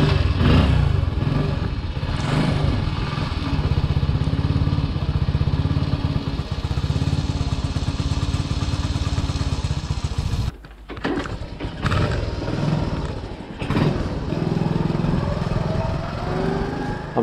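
A Honda Cub C90 motorcycle engine running after restoration, a steady close buzzing putter that continues throughout with a brief dip and a couple of rattling interruptions partway through.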